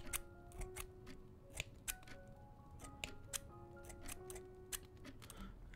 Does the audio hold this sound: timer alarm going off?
no